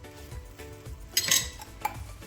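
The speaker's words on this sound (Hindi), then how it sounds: "एक साइड से पराठा सिकने के बाद अब पलट लेते हैं" A turnip-fenugreek paratha is flipped on a tawa griddle, with a brief scrape and clatter of metal on metal at mid-clip and a small clink just after, over a quiet kitchen background.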